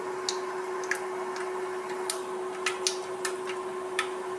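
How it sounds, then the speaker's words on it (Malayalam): Mustard seeds pop in a pan of hot sunflower oil as a pickle tempering starts, giving scattered sharp ticks at irregular intervals over a steady low hiss, close by, with no voices. "കടുക് പൊട്ടുന്നുണ്ട്."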